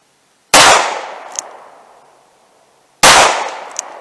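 Two sharp, loud shots from a Taurus 856 .38 Special revolver with a 2-inch barrel, fired at an outdoor range about two and a half seconds apart, each crack followed by a fading echo.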